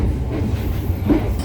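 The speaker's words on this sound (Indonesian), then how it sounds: "Kereta api Tegal Bahari sudah berangkat." Tegal Bahari economy-class train departing on the Jakarta–Cirebon line, a steady close rumble of rail cars with faint rhythmic wheel clatter.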